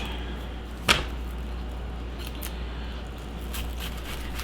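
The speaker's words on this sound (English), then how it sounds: "I always cut off the very end of it where the roots and stuff are" A knife slices the root end off an onion on a cutting board, one sharp close cut followed by a few faint softer taps over a low steady background hum.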